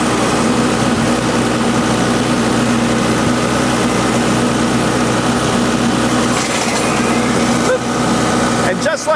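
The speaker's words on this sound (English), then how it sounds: "and then rev my tractor up." A loud, steady engine roar from a tractor fills the whole stretch, with a Laneshark Hammerhead mower attachment whirring underneath and no break in the noise.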